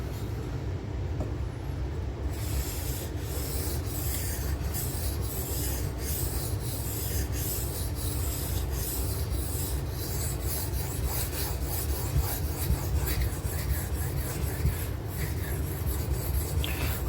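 Benchmade Redoubt knife blade sharpened on a sharpening stone with lighter pressure, a continuous gritty scraping and rubbing with repeated strokes, close and steady, no talking.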